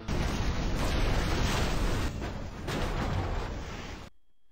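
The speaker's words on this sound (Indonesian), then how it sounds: "Dan ia kemudian meledakkan bomnya." Bomb blast tearing through a restaurant in the 2015 film Survivor: a loud, sustained roaring explosion with rumbling debris for about four seconds, ending abruptly into near silence.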